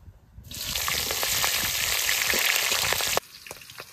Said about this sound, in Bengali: তেল গরম হয়েছে, প্রথমে জিরে আর তেজপাতা দিয়ে নেব।